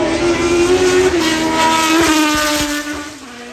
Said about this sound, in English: Formula One car, always lovely to see.